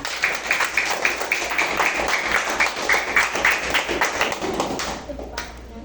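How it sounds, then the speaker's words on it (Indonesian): Schoolchildren in a primary school classroom clap together in a rhythmic burst of hand claps that runs for several seconds and then fades out near the end. "kita beri tepuk tangan buat kalian semua"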